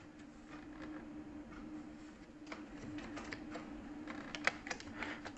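Keys clatter on a computer keyboard while someone types into an Excel spreadsheet, a run of quick uneven clicks that grows busier and louder toward the end over a low steady hum.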